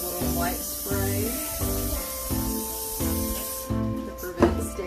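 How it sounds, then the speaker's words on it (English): Cooking spray hisses onto a half sheet pan in a steady, continuous spray, heard alongside a repeating tonal background sound. "And give it a little white spray"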